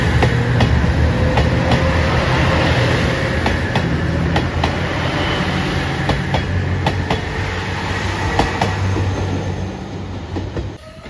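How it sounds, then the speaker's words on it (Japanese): A red Anpanman-liveried Nanpu limited express diesel railcar runs past at Sakaide station, a loud continuous rumble with steady clickety-clack wheel beats that fades slightly toward the end. "佐渡津駅11時56分発特急南風7号高知駅赤いアンパンマン起動車"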